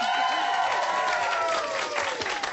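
A studio audience at a KFC-themed game show claps in a steady, dense burst of applause that lasts throughout, with a voice carrying over the crowd.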